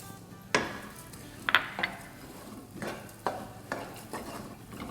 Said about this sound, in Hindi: नारियल के साथ भी बस सौटे करेंगे 30-40 सेकंड